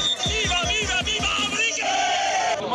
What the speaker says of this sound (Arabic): موقع أسوشيتد بريس واكب أجواء الجماهير المغربية في الدوحة